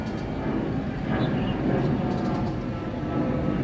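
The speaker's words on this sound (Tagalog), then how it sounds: "naririnig na po dito yung eroplano" A steady, broad roar from an airplane passing overhead at an outdoor campsite, swelling slightly midway and holding as a constant low rumble, no talking.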